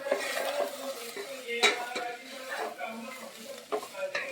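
Onions with oil, turmeric and spices fry in a pan for a horse gram and brinjal curry. Utensil scrapes and clinks sound over a low sizzle, with no clear voices.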